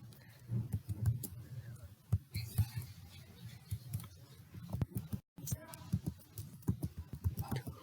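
Computer keyboard typing a topic into a PowerPoint slide, soft irregular key taps and clicks close by, with a faint low background hum and a brief dropout midway.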